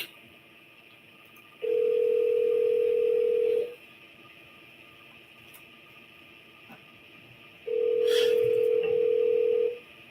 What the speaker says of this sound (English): So while this phone is ringing